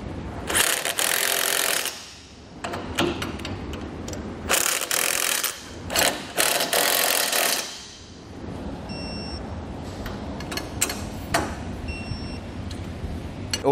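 Ratchet wrench tightening the bolts of a Buyers Products forged 4-bolt lunette ring mount, loud bursts of rapid clicking and grinding separated by short pauses, up close, with faint high whine between strokes.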